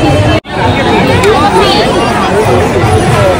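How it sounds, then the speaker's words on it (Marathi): Dense crowd hubbub of devotees packed into the ISKCON temple in Thane on a busy Sunday, a steady wash of overlapping voices and chatter with a brief dropout near the start. "फुल गर्दी आहे, फुल हाऊसफुल."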